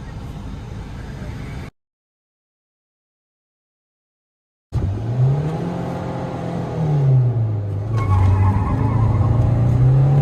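Old and new Suzuki Swift cars, one diesel and one petrol, accelerating side by side in a drag race, engines droning loud and close with a rising, falling pitch as gears change, after a brief silent gap at the start.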